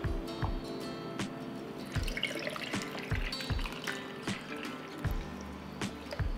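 Jars packed with apricots are topped up with water to the brim, producing a continuous close pouring and dripping sound broken by occasional glassy taps, with no voices.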